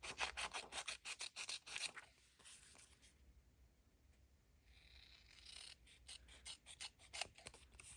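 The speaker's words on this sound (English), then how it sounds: "So I thought this paper was nice. So let's go ahead and trim around it." Scissors snip and trim around decorative paper for a sewing-themed craft, rapid close cutting strokes at the start and end with a quieter rustling pause in between.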